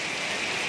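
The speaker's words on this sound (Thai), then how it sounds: "พายุเข้าฝนตกคำหัวครับกำลังขี่เรือโดยสารจากดอนเดชกลับไปยังบ้านนากระสังครับ" Heavy storm rain pours steadily on a passenger boat travelling from Don Det back to Ban Nakasang in Champasak, southern Laos, a dense, even hiss with no voices over the short stretch.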